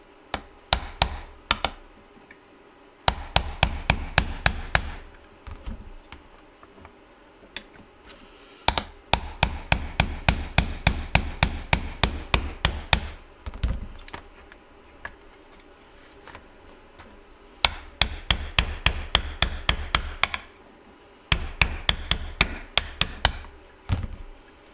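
A trigger pin is driven out of an M&P 45 Apex AEK pistol resting on a drilled wooden punch block, with bursts of rapid, sharp, close hammer taps separated by short pauses, and no voices.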